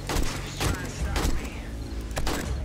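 Shotgun fire from the zombie survival video game 7 Days To Die, a rapid series of heavy booming blasts over dense game noise with talk mixed in.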